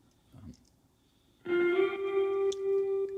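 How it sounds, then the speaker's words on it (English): In a song, an electric guitar plays a short melody. A faint, echoey lead-in comes first, then a bright sustained note with shimmering effects rings out clearly at a steady level over the final couple of seconds. "there's a guitar that's playing this like little melody."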